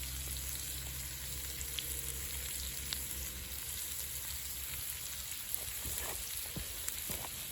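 Golden oyster mushrooms seasoned with garlic powder and salt fry in a pan, a steady quiet sizzle with scattered small pops and crackles throughout.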